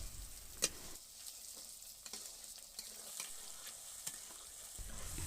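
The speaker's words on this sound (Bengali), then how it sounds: "এটাকে আমরা একটু মাঝে মাঝে নেড়ে দিব, যাতে এটা নিচে লেগে না যায়।" A spoon stirs beef tripe cooking in a pot, giving faint, irregular scrapes and clicks over a low, steady simmering hiss.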